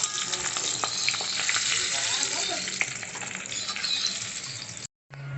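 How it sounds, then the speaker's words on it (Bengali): Hilsa fish pieces fry in mustard oil in a pan, making a loud, steady sizzle with light crackles as they are turned, then a brief gap at the end. "মাছগুলোকে একটু উল্টে পাল্টে ভেজে নিচ্ছি"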